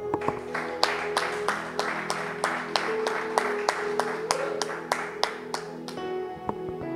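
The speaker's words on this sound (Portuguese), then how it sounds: "Um aplauso ao Senhor." A church congregation claps in a steady rhythmic beat, the sharp hand claps repeating evenly at a moderate level over a low sustained organ-like drone, then fading near the end.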